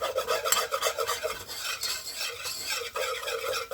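A roux being stirred in a pan for mac and cheese, a steady scraping and rasping of the spoon against the pan with a soft sizzle, continuous and close, no voices.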